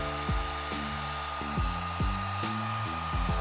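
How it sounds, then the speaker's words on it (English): A heat gun blows hot air onto yellow fog light tint film on a 9th-gen Honda Civic Si coupe, a loud steady whirring drone with a motor tone that wavers rhythmically, close and without talk. "You just heat gun it."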